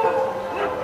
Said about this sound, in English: dogs are barking too much